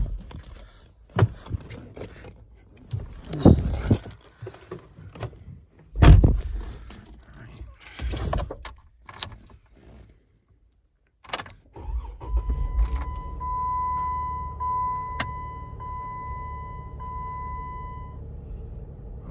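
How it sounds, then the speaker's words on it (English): Keys jangle and rattle in a car on a winter morning, then the starter cranks and the engine catches and settles into a steady idle. A thin, constant squeal rides over the idle, from a loose timing belt. "the owner on this car said it has a loose timing belt, so that's probably why you hear squeaking"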